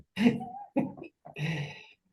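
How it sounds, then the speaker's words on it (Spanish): Three separate bursts of forced coughing with short silent gaps between them, close and fairly loud, with no talking. "A toser, vamos a toser"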